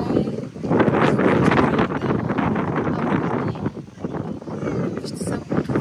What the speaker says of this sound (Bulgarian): Вижте само какъв вятър.